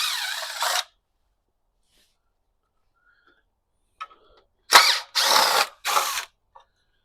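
A power tool whirs in short bursts while taking out the valve cover bolts on a small block Chevy engine in a 1980 Chevrolet C/10 Cheyenne truck. One burst comes first, then a pause, then three quick bursts close by.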